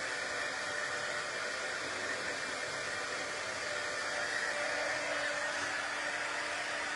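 A heat gun blows loudly and continuously, a steady broadband hiss-roar without pauses, close to the microphone, used while painting a vintage Halloween paintbrush craft.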